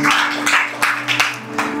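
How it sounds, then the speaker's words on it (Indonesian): During a Sunday church service, a congregation claps in a steady, rhythmic beat. The sharp, evenly spaced claps sound close and loud over sustained musical tones. "Berikan tepuk tangan untuk Tuhan."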